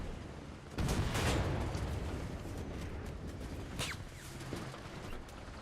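Incoming gunfire batters a French B1 Bis heavy tank in War Thunder, a dense rattling barrage of impacts that opens with a loud burst and then continues as a steady roar of hits and crackle.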